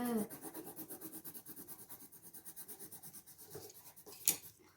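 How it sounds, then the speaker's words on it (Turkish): Colored pencils rubbing on paper as children color a picture, a steady rhythmic scratchy scribbling that continues throughout at close range, with a brief sharper scrape near the end. "Hadi resmi boya sen de o kalemle."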